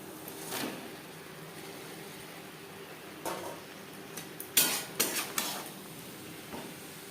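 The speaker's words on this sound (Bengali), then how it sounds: "মশলা ও মাছের সাথে ডাটা বেশ ভালো করে মিক্সড করে দেবো" Elephant foot yam stems being stirred with spiced prawns in a pan, a spoon scraping and clinking against the metal in scattered strokes, with a faint sizzle underneath.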